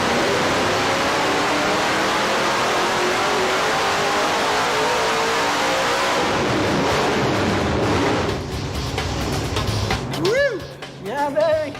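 A high-horsepower race car engine roars steadily on a dyno during a full pull, loud and sustained for several seconds, then drops off into lighter revs as someone talks near the end.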